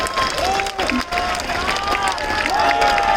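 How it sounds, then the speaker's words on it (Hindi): Rally crowd at Azad Maidan, Mumbai, at a farmers' protest, breaking into steady applause and cheering that carries through the clip, with voices calling out above the clapping. "जोरदार तालियों से इनका स्वागत हो जाए"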